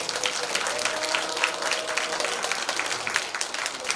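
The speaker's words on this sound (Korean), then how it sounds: "이분을 위해서 한번 우리 힘찬 박수를 한번." Crowd applause at a Korean volunteer group's achievement report ceremony, many hands clapping in a steady, moderately quiet patter from a hall audience, with faint voices mixed in.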